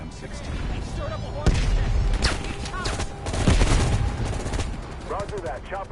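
Gunfire in a firefight in Call of Duty Black Ops Cold War, with dense bursts of automatic fire and heavy booming reports over a steady rumble, and voices talking underneath.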